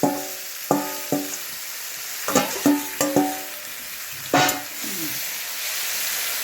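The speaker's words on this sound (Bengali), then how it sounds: "এবার একটুখানি কিছুক্ষণের জন্য আমরা কষে নিই ভালো করে" Several sharp clatters of a utensil against a pan over a steady background sizzle as chicken is sautéed with chui jhal, coming in irregular bursts with brief pauses between.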